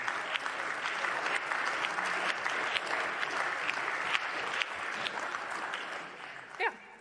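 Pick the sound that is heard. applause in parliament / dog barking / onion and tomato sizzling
applause in parliament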